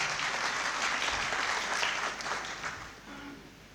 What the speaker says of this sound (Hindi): अच्छी शायरी के लिए मैं चाहता हूँ कि एक बार कैफिल वरा साहब के लिए आप हज़रत ज़ोरदार तालियाँ बजाएं।